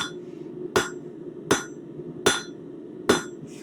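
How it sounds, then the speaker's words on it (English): A 3-pound hammer forging a leaf on an anvil gives four sharp, ringing metallic strikes at an even pace about three-quarters of a second apart, close and clear over a low steady background hum. "So I think I'm going to use my 3-pound hammer for a little bit."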